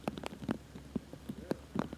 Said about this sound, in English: And here's that rain that we were talking about. It has just popped up for the last hole.